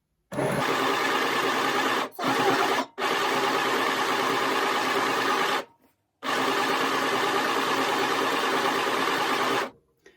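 A Midi sewing machine stitches along fabric seams, its motor running in long steady whirring bursts broken by a few short pauses, close and alone.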